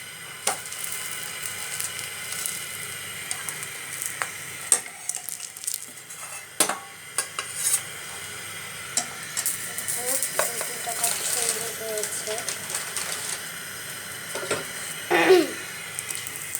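Slices of bread soaked in beaten egg are set into a frying pan one after another, with a faint, steady sizzle running beneath scattered clinks of utensils and pan scrapes.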